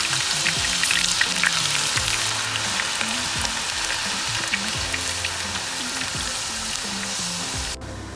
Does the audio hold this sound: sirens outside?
no